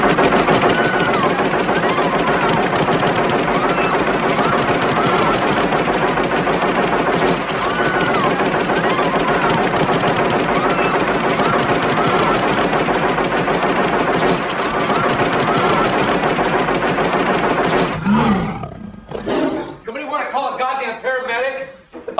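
Rapid automatic gunfire from the film Robocop blasts continuously and loudly for about eighteen seconds, then breaks into a few separate bursts and clatter near the end.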